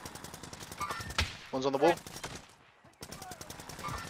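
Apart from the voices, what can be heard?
gunfire and sniping in a video game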